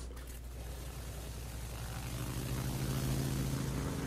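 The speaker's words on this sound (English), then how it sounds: "launch rocket planes." Rocket-armed planes launching from the aircraft carrier Hosho in a naval warfare video game: a steady propeller and engine drone that holds throughout and swells slightly toward the end, with no talking.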